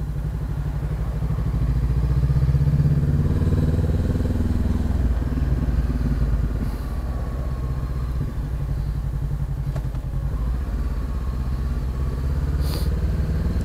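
Honda CB500X motorcycle engine while riding on the road, a loud steady droning rumble that swells slightly early on, close and continuous, with no talk.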